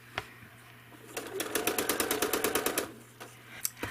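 A home sewing machine quilts a line across fabric in one quick burst of rapid, evenly spaced needle strokes, with a few soft clicks and handling noises before and after in an otherwise quiet room.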